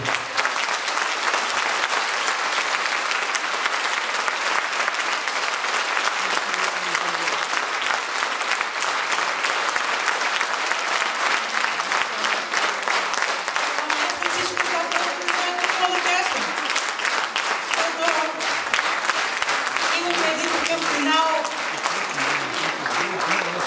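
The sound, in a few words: audience applause after a concert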